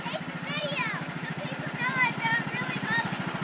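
A John Deere riding lawn mower drones steadily and close while mowing a yard, with a voice chattering over the engine throughout.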